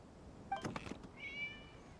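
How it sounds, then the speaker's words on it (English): A cat in the Genshin Impact video game meows twice in quick succession, the first short and sharp, the second a drawn-out higher mew, faint against a quiet background. "It was just a cat."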